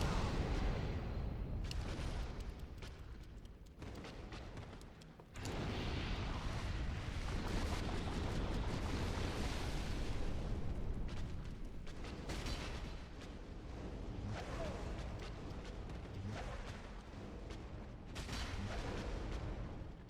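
Heavy, booming explosions and rumbling combat noise from Dark Souls Remastered roll on almost without a break across the whole stretch, dense and fairly low in level.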